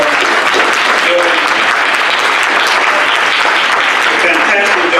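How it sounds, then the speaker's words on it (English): A conference audience at a plenary Q&A session applauds, giving steady, dense clapping that fills the room at full loudness throughout with no break. "let's give Sharon a nice round of applause for doing"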